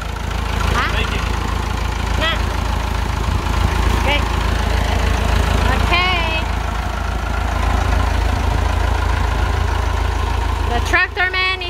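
A Massey Ferguson tractor engine idles in a steady low drone throughout, close and constant, while people talk intermittently over it.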